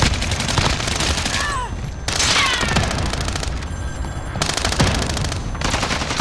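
Sustained automatic gunfire in the Call of Duty: Modern Warfare video game, dense rapid bursts running nearly the whole time with brief gaps, loud and close, mixed with game effects.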